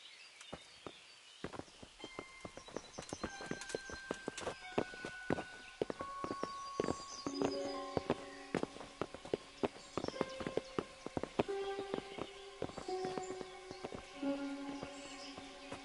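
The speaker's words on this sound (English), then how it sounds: "Bring the horses." Horse hooves clip-clopping in the video game Kingdom Come: Deliverance, a string of hollow hoof knocks at walking pace with buzzing flies and tonal game sounds, moderately near with no speech.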